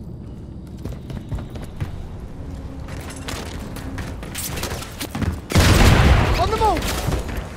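Enemy gunfire in a Call of Duty game, bursts of rapid shots crackling around a voice shouting an order, then a loud close fusillade with a heavy boom near the end.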